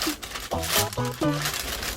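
Plastic wrapping crinkles as it is pulled open from around a new all-black Mizuno Global Elite pitcher's baseball glove, close-up crackling bursts across two seconds with voice-like tones mixed in.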